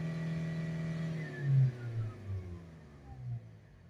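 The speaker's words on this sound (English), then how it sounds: "Let's give it a full rev." A 2.0-litre Ingenium diesel engine in a Land Rover Discovery Sport, with a particulate filter pressure fault, rises from idle to a full rev, surges, then falls back to a steady rumble, heard close up without talk.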